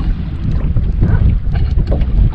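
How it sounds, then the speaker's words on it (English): Wind blows across a lake, buffeting the microphone in a loud, continuous low rumble that gusts unevenly. "Wind's starting to blow."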